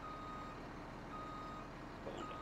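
Truck reversing beeps in the video game Farming Simulator 17, a steady repeating tone over a constant low engine rumble, clear and alone with no talk.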